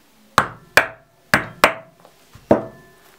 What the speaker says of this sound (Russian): пробить отверстие